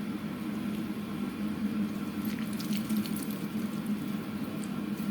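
Warm soaking water drains and trickles steadily from mushrooms squeezed by hand, a continuous close liquid rush with faint splashes and no talking.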